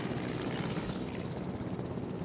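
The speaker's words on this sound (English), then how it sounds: "I don't see the transport helicopter." Transport helicopter in a dinosaur park video game, a continuous rotor whir and drone held steady and fairly close, with no talking.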